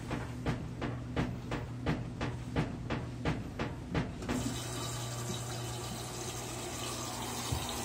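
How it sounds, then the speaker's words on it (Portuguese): An Electrolux 17 kg washing machine set to the extra-low level starts with about ten regular mechanical pulses, then settles into a steady rush of water filling the drum, all at moderate volume. "Eu vou encher a lavadora no extra baixo"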